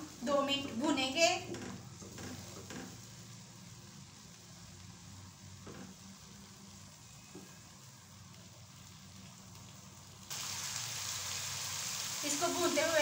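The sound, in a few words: ginger garlic paste frying in a pan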